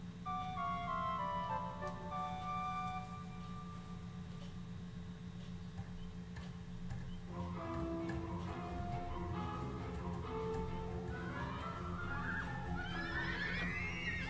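Horse neighs and whinnies, then hooves clip-clop in the Dragon Quest VIII game on PlayStation 2, game music and effects steady underneath, the whinny clear and close with no talking.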